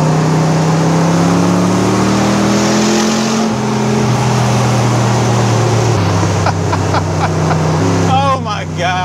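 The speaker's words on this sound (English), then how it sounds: "Listen to those side pipes. This sounds so good." A 1967 Chevrolet Corvette L71 435hp V8 rumbles steadily through its side pipes while cruising, a loud, continuous low engine drone with shifting pitch, joined near the end by a brief squeal and rattle.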